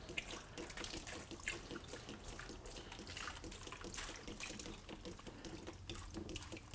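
Water rinses steadily inside a contained cleaning unit, a soft, continuous splashing and spraying that runs throughout at low level, with no talk.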